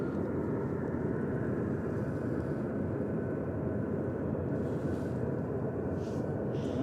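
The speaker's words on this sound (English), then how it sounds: "This is Ryanair heading off to Oslo, flight 3226, 737-800 GRUKM" A Ryanair Boeing 737-800 jet departs Manchester Airport, heard as a steady broadband roar of engines, distant and unchanging throughout with no talk.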